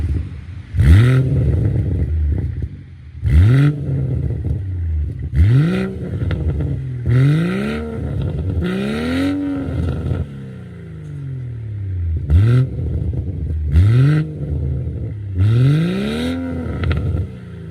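A BMW M140i with Remus carbon-tip valved exhaust revs repeatedly, about nine sharp blips rising and falling in pitch with crackling pops between them, loud and close with no talk.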